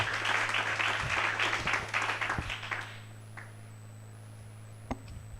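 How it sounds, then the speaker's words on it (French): A church congregation claps together in a burst of applause that lasts about three seconds and then dies away. A steady low hum continues beneath it, followed by a few faint knocks. "Applaudissons. Tupike mikono."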